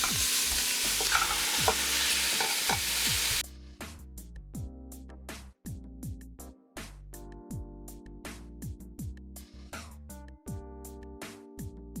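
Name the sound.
meat frying in a pan for lasagna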